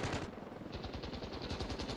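Rapid bursts of automatic gunfire rattle out in a fast, even rhythm, a weapon in the game Ravenfield firing continuously for a couple of seconds.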